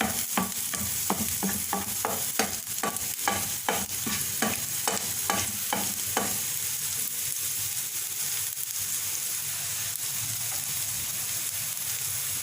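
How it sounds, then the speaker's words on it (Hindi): Chopped onion sautés in a pan for an Afghani omelette, with a run of rhythmic stirring scrapes over a steady sizzle that then settles into continuous frying hiss, close and alone. "हल्का सा प्याज को सौते करेंगे कि इसका रंग गुलाबी माइल हो जाए।"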